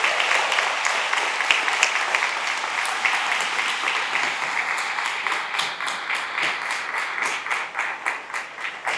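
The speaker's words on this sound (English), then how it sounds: "Let's give them a round of applause" A crowd applauds committee board members as they stand at the Parren J. Mitchell memorial dedication. The applause starts full and loud, then thins into more separate, rhythmic claps toward the end.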